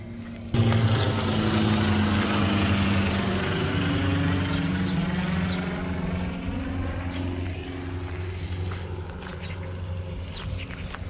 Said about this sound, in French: Il y a un avion qui passe, ça fait du bruit.